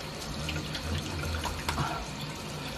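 Water runs steadily from a bathroom tap as hands are wetted, a close, continuous splashing flow with no talking.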